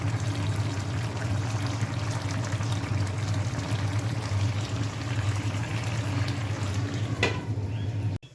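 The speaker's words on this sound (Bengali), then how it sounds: "একটু পানি দিয়ে আমি খালি রান্না করে নেব" Water pours steadily into a pot of curry, a bottle gourd curry on the stove, making a continuous close splashing rush that lasts several seconds before it stops suddenly.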